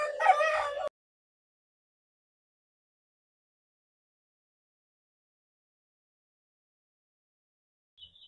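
A rooster on a chicken farm crows once briefly at the start, cut off abruptly, followed by near silence with a faint chirp at the end.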